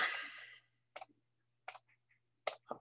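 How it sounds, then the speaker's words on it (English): Several sharp, dry clicks arrive in small clusters after a brief opening burst, each crisp and close, separated by short silences with no talk around them. "Clicking too much."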